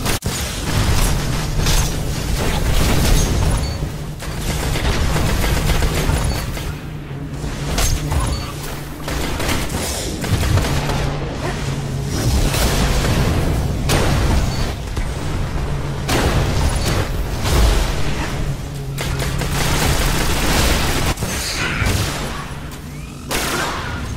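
Destiny gameplay with a dense, continuous barrage of shotgun blasts, melee hits, throwing knives and booming explosions, loud and relentless throughout.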